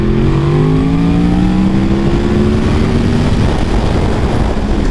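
A Yamaha R1 motorcycle accelerating hard, a loud close engine whine that climbs steadily in pitch over a roar of wind rush, continuous with no talk.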